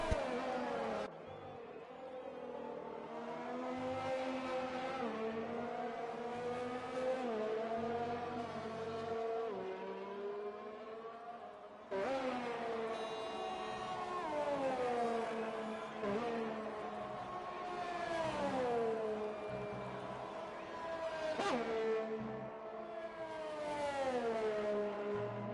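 McLaren Formula race car engine at the British Grand Prix in a racing video game, a loud high wail rising through gears with sharp upshifts, two abrupt cuts, then long climbing revs and a downshift, no talking.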